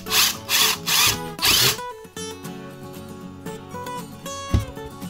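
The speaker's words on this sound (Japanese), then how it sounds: "8ミリの穴の反対側にビスが通る穴を開けます。" An electric drill whines in four loud bursts, then a quieter mechanical hum with a brief thump near the end.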